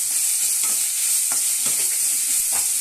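Whole spices such as cinnamon, cloves, fennel seed and bay leaf crackle in hot oil in a pan, a close, even sizzle with a few sharp scrapes and taps of a spoon, no talking.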